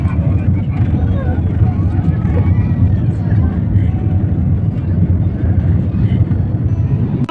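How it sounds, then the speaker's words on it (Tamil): A Sri Lankan Airlines passenger plane takes off, heard from the cabin as a loud, steady, low roar of jet engines that holds constant throughout. "நல்லபடியாக ஃப்ளைட் டேக் ஆஃப் ஆகிடுச்சு"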